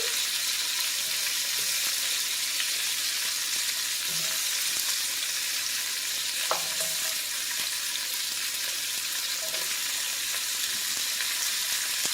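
Celery stalk added to a pot of braising chuck roast for Southern cooking, giving a steady, continuous sizzle and frying hiss with a few faint stirring clinks, fairly close and with no talking.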